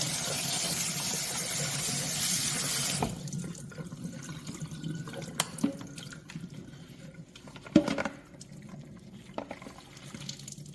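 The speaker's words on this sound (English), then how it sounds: "So I'm just going to try to rinse it off without giving it too much of a bath" A tap runs loudly, rinsing meat for meatloaf, then stops abruptly, leaving quiet handling sounds, drips and a couple of soft knocks at a sink.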